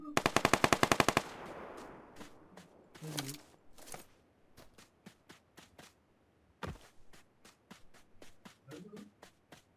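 Gunfire in PUBG: a rapid, loud burst of automatic fire opens, followed by scattered single shots and clicks of varying distance, with soft movement sounds and brief voices in between.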